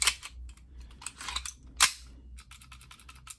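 A WE Browning Hi-Power airsoft pistol, with an empty magazine inserted, gives sharp mechanical clicks and snaps, one louder crack near the middle among lighter close-up ticks and handling noise.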